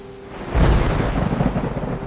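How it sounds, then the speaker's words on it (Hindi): Thunderstorm with a deep rumbling thunderclap rolling in after half a second over a steady wash of rain, loud low boom fading into continued rumble and patter, with no voices. "बाहर तूफान था"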